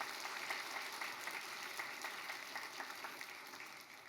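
A church congregation claps to welcome visitors, a faint, distant, steady patter of many hands that carries on evenly throughout with no talking over it.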